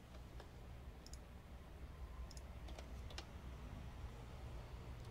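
Quiet, scattered computer keyboard typing during a Prison Architect game session, a few soft clicks spread over a steady low background hum, with no one talking.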